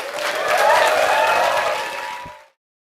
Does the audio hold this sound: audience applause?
yes